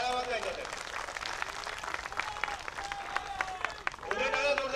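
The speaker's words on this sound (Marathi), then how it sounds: "जरा टाळ्या वाजवायच्या त्या." Audience clapping at a Shiv Sena (Uddhav Thackeray faction) political rally, a broad, steady patter of many hands lasting several seconds, mixed with voices, crowd noise and a speaker's amplified talk.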